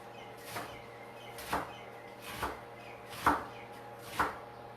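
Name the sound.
chopping rolled greens with a knife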